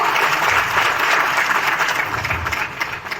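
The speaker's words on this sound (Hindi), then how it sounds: "जोरदार तालियां हो जाए" An audience at a health talk event breaks into steady, dense applause welcoming guests, loud and sustained for the whole stretch before easing slightly near the end.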